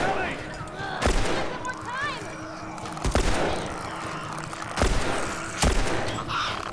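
Gunfire in The Last of Us Remastered: a handful of sharp, booming shots land at uneven intervals, each punching through the game's background sounds while a player talks excitedly between them.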